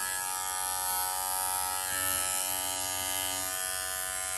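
Electric clippers grooming the head of an 8-week-old schnauzer puppy give a steady, loud, close buzzing hum that runs unbroken throughout, with no talk over it.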